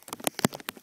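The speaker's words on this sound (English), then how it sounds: "I like the rain" Rain falls outside on a March day in spring, heard as scattered close drops tapping a surface in an uneven patter, with no talk.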